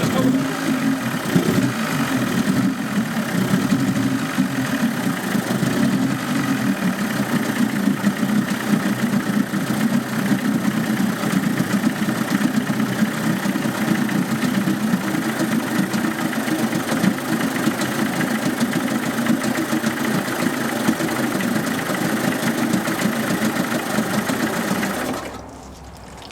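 A 1999 Johnson 30 HP outboard engine idles steadily at close range, a continuous mid-pitched buzzing drone that holds for the whole stretch before cutting off abruptly near the end.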